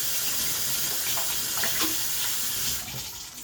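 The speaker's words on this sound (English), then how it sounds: "Let me rinse off my hands." Hands being rinsed under a running kitchen tap, a steady close splashing stream of water that eases slightly near the end.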